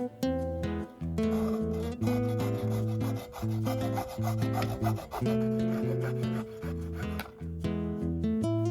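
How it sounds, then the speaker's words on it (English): Threads being chiseled off plastic through-hole fittings, heard as repeated close scraping and rasping strokes in uneven bursts with short pauses and no talking. "Chiseled off the threads"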